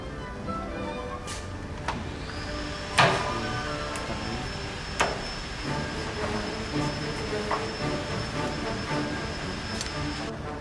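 An ACER Dynamic-17 Series G engine lathe cuts 7 threads per inch, giving a steady mechanical whir with a faint high whine and a few sharp clicks and knocks throughout.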